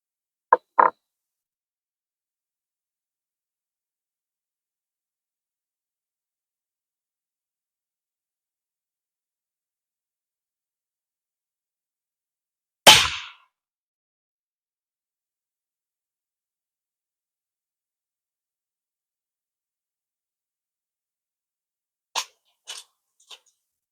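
A GAMO air rifle fires Crosman pointed pellets at a target. A few sharp, isolated cracks ring out, each separated by long stretches of silence, with one louder shot standing out in the middle.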